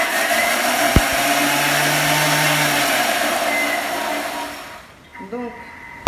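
Blender pureeing strawberry guavas with lemon juice, a loud steady whirring drone that runs continuously and then winds down and stops, with a brief clatter near the end.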